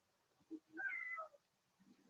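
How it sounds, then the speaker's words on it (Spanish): A domestic cat beside a person working from home gives a short chirp and then one clear, drawn-out meow, close and quiet, followed by a faint murmur. "Pueden ver un gato también que está acá al lado mío."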